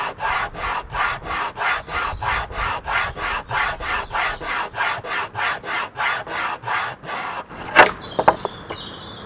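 Rhythmic back-and-forth rasping as a wooden knife handle edge is shaped by filing, about twenty even strokes in close succession, followed by a few knocks and clatters at the end.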